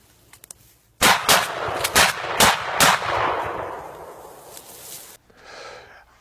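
Several gunshots fired to cut down a Christmas tree, a quick close burst of about seven loud cracks over two seconds with a long decaying echo, then quiet.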